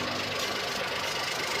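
A Geely Coolray 1.5L engine with a dual mass clutch flywheel idles with a steady, even mechanical drone and light knocking texture, close and continuous.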